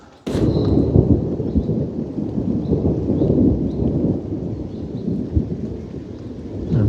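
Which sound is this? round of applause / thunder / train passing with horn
thunder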